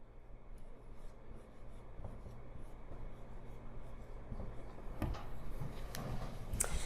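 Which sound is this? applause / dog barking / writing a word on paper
writing a word on paper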